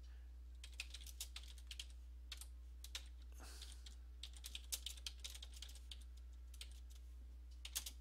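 Keys on a computer keyboard clatter in quick irregular bursts of taps, faint and close over a low steady hum, with no talking.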